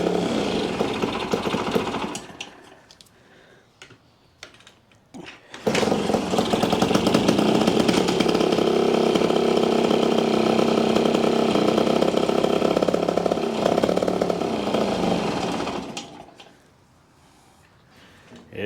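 A small engine, choked and flooded with oil, sputters weakly during a few start attempts. It then catches and runs loud and close with a harsh, chainsaw-like buzz for about ten seconds before cutting out to near silence.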